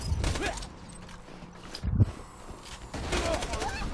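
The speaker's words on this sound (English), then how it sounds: "Shoot two guns at once." Dual-wielded guns in Borderlands 2 fire in rapid bursts that crack and rattle near and loud, with a sharp single report in the middle, while a voice talks over the shooting.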